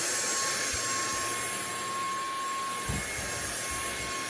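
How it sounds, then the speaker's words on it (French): A Tineco Switch S6 Stretch cordless stick vacuum cleaner running on a rug, a steady whining motor hum with airflow rush, close and continuous, with a couple of faint bumps. "petit coup d'aspirateur dans le tapis"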